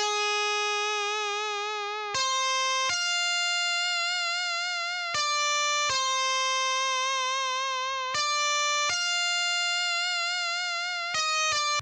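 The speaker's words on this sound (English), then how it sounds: "So I opened up Xenology and I got this guitar rip preset, which sounds like this without any effects." Xenology synth guitar rip preset played dry with no effects: a bright, buzzy lead melody in sustained, wavering notes with vibrato, stepping between pitches in a steady phrase, loud and alone.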